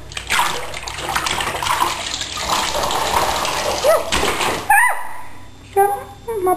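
Water sloshing and splashing in a bathtub as a child swims in it, loud continuous churning for several seconds, then a sudden drop to quieter drips and small splashes near the end.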